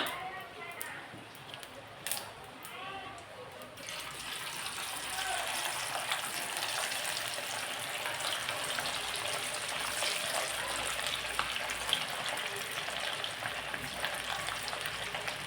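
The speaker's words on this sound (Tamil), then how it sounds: "எண்ணெய் சூடு வந்துடுச்சு காலிஃப்ளவர் போட்டுக்கலாம்" Cauliflower pieces drop into hot oil and set off a loud, continuous sizzle and crackle that holds steady after an initial splashy burst.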